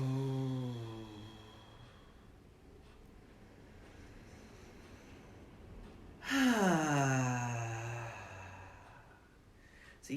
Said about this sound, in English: And taking as many of these cleansing breaths as feels good to you.